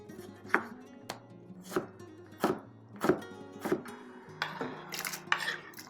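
Half a tomato diced into cubes with a knife on a cutting board, a slow series of about a dozen distinct close taps, each followed by a faint scrape, with no talk.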